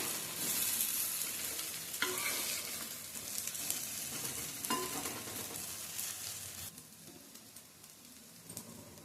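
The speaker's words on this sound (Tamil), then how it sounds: "வாழைக்காய் எல்லாமே வந்து ஃப்ரை ஆயிடுச்சுங்க" Raw banana slices frying in hot oil, a dense continuous crackling sizzle heard close up with occasional sharper pops and stirring clicks throughout.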